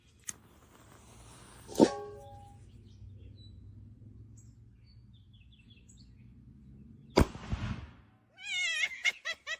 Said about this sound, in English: Here I got the kitty cat for everybody.